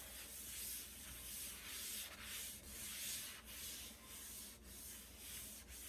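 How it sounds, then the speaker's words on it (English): A clean cloth rubs oil into the grain of a wooden cutting board, giving a steady, faint swishing with a gentle back-and-forth rhythm throughout. "with a clean cloth, you rub it into the grain of the board"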